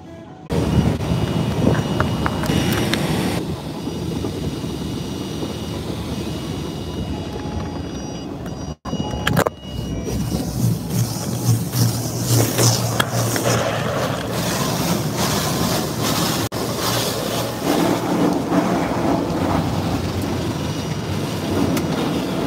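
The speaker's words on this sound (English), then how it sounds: "My car hates the car wash." A car rolls through an automatic car wash, with a loud, continuous wash of spraying water and machinery roar running throughout, a brief drop near the middle, and no talking.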